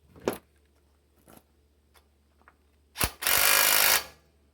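Tightening a nut on a tine of a New Holland hay rake: a few short metallic clicks and taps, then a sharp clank followed by about a second of loud, sustained grinding whir, close up with no talking.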